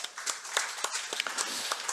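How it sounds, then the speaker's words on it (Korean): A church congregation during a Sunday morning service claps briefly in encouragement, a short burst of scattered hand claps in a quiet room, with no talking. "우리 격려 박수하겠습니다"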